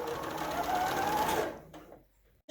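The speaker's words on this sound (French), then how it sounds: "je couds jusqu'en bas ma parmenture" A sewing machine stitches down the facing of a blouse with a fast, steady whirring hum, then slows and stops, leaving near silence.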